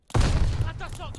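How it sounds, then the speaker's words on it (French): A stun grenade goes off in the Call of Duty Vanguard video game as one short, heavy, muffled blast, its low rumble trailing off over about a second. "J'envoie une grenade paralysante."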